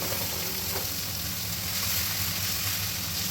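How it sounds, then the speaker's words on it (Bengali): Chopped onion, tomato and black cumin frying in hot oil, a dense steady sizzle, close and continuous with no talk. "ফোড়নে কালো জিরে দিয়ে কুচি করা পেঁয়াজ ও টমেটো দিয়ে নাড়াচাড়া করব"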